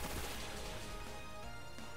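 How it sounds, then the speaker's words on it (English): Rapid barrage of Bullet Seed hits in a Pokémon video game battle, a dense run of sharp, close impacts filling the full two seconds with no talk over them. "I'm just gonna try and do some damage on this. With my bullet seed."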